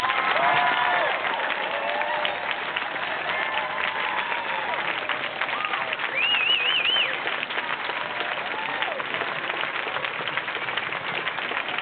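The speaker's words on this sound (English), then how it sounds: "would you please just give the students a round of applause" Audience applause for students at an end-of-season band barbecue, steady dense clapping sustained throughout at close range, with some birdsong audible over it.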